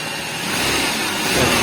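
An ATV engine rumbling and rising in pitch as it revs, loud and close, with a steady broadband roar building toward the end.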